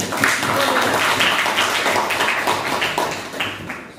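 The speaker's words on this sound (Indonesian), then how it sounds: "Beri tepuk tangan buat kita" A classroom group claps together in a dense, fairly loud burst of applause that carries on steadily and fades slightly toward the end.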